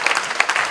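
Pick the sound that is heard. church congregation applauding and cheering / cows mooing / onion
church congregation applauding and cheering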